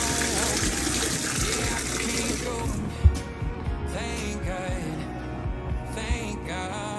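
A bathtub filling with water and bubbles: a steady, loud gush of running tap water pours continuously, with a few faint knocks and splashes mixed in.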